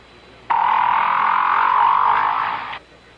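A whale gives one sustained, loud buzzing croak with a steady rasping texture that starts abruptly and cuts off after about two seconds, heard alone and up close.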